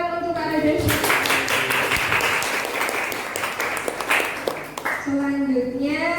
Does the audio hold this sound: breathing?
no